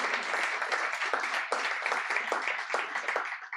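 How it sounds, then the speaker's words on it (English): An audience at an evening book launch in a bookstore applauds the event staff, a dense, steady burst of many hands clapping, close and sustained for a few seconds before tapering off. "Please give them a round of applause."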